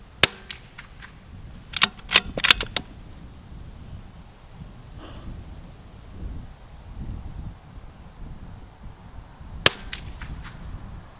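Sharp cracks from a Bergara B14 HMR Carbon rifle chambered in .22 rimfire, several quick shots early on, then a lone shot near the end, with outdoor wind rumble in between.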